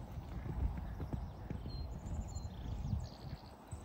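A barrel racing horse trots with steady, rhythmic clip-clop hoofbeats, heard faint and fairly distant, with a little background talk.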